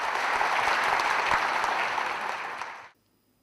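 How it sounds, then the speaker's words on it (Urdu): An audience at an official ceremony in Pakistan gives a sustained round of applause, dense clapping that holds steady and then stops abruptly near the end. "آپ کی بھرپور تالیوں میں پاکستان کے وزیر دفاع خواجہ محمد آصف۔"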